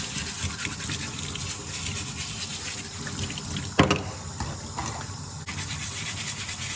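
Hands being washed with Palmolive soap under a running tap: steady splashing water flow with rubbing and a sharp knock partway through, close and alone.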